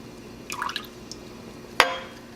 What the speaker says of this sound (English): I'm going to add 1 can of evaporated milk.